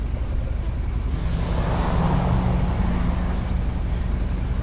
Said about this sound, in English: I hear the vehicle going away.